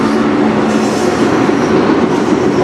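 A CN freight train hauling auto-rack cars rolls past on the Strathroy Subdivision near Sarnia. It makes a loud, steady rumble and rattle with a thin metallic wheel whine throughout.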